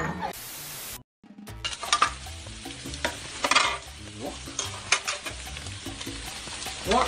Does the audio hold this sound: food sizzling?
yes